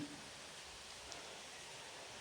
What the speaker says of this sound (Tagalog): Ay, nag-ulan na siya guys.